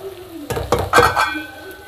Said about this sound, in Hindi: ये देखें मैं अभी इसको भून रहा हूँ